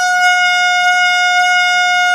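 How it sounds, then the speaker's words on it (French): A loud air horn blasts as a prank, one steady, unbroken blare holding for the full two seconds with no pauses or talk. "avec le temps, je vais finir par m'habituer à ce klaxon"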